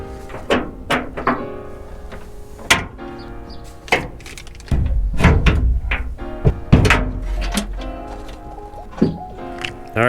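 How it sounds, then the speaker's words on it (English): A truck tailgate is worked off its hinges in a series of sharp metallic clunks, knocks and rattles at uneven intervals, with a heavier scraping stretch in the middle, all close by. "We'll take the tailgate off and put this on."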